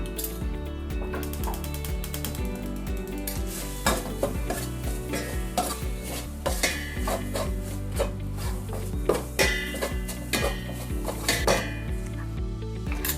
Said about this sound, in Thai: เดี๋ยวเราตักเครื่องแกงใส่หม้อเดี๋ยวเราผัด